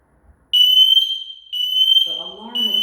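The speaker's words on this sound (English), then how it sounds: "The alarm again. There's no smoke in the room." Shrill, steady electronic smoke alarm tone sounding in long bursts with short gaps, loud and close in an indoor room, with a voice speaking under the final burst.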